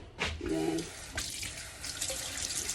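Kitchen tap running while a hand is washed during fried chicken preparation, a close splashing stream of water with brief surges and drips as the hand moves under it, with no talking.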